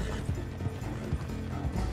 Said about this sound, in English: if you're trying to bond your horse, just gallop like this speed